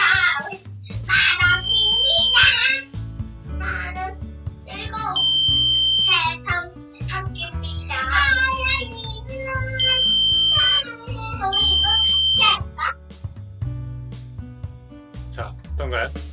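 An Arduino noise alarm box triggered by its sound sensor gives off bursts of high electronic tones amid loud, lively children's voices and chatter.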